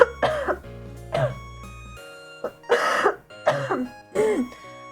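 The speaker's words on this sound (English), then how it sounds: "Just so I could clear my throat" Phlegmy coughing and throat clearing come in a series of about five harsh bursts, close and loud, with low background hum early on.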